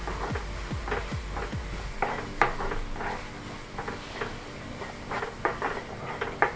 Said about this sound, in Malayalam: ഇതിന്റെ പച്ചമണം പോകുന്നവരെ ഒന്ന് ഇളക്കി